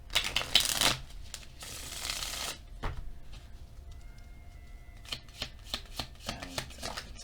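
Tarot cards being shuffled in a riffle of dense crackling bursts over the first couple of seconds, followed by softer scattered taps and flicks as the deck is handled, close and moderately quiet with no talking.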